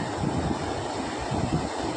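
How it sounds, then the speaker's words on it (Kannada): Water from a stream on the Halageri–Kuppelur road spills over a check dam in a dense, continuous rushing roar, steady and fairly loud with no talking over it. "ನೀರು ಬಾಂದಾರದಿಂದ ಕೆಳಗೆ ಬೀಳ್ತಾಯಿತ್ತು"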